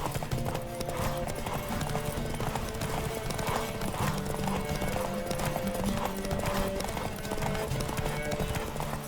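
Fast, unbroken hoofbeats of a galloping horse racing in The Witcher 3 drum on continuously, up close and mixed with background game music.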